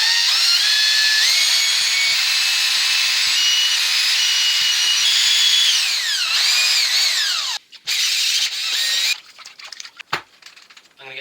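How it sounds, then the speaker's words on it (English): A power drill with a mixing paddle churns paint and water in a bucket, whining steadily with pitch shifts as it changes speed, then cutting out and restarting in short bursts before stopping. "occasionally you can turn the drill onto reverse and rotate the other way"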